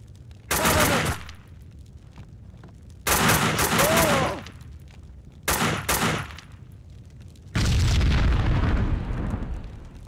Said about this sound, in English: I had to help the explosions on their way.